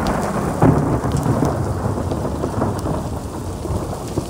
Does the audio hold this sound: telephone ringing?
no